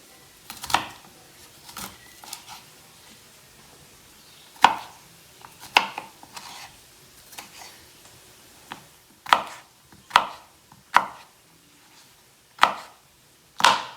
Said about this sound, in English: And this is called coarse chopping.